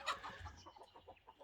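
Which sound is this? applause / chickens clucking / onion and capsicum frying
chickens clucking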